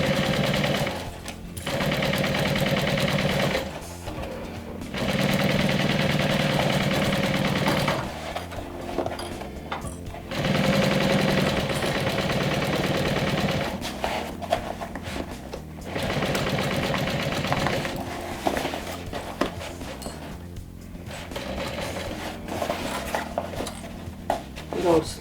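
A home sewing machine stitches around a small fabric backpack in long steady whirring runs, broken by short pauses and clicks, close and fairly loud.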